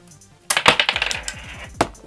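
A Cross Fight B-Daman toy launcher fires a marble, which lands with a sharp clack and then rattles and bounces in quickening small clicks, close and alone.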